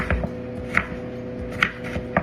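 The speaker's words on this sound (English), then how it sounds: "Almost done chopping up these potatoes." Potatoes being chopped with a knife on a cutting board, giving a few irregular sharp knocks spread across a quiet indoor room, moderately close.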